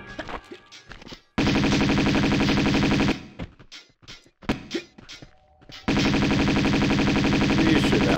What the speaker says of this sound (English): We're going with the Uzis.